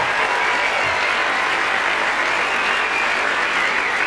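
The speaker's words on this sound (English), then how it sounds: "a bit of a round of applause for the waitresses and waiters" An awards-night audience at a film industry event on the Gold Coast applauding the waitresses and waiters, a dense, continuous wash of clapping that holds steady throughout.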